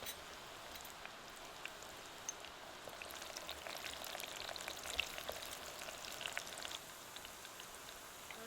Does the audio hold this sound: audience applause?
no